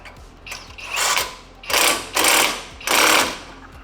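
Impact wrench tightens brake bolts on a BMW E39 M5, firing three or four loud hammering bursts about a second long with brief pauses between them, close up in a garage.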